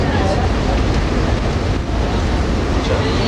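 Boat ride across Manly harbour in the evening, with a continuous loud rush of waves, engine and wind buffeting close to the microphone throughout.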